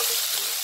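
Squid stir-fried over the highest heat gives a loud, steady, close-up sizzle with no break.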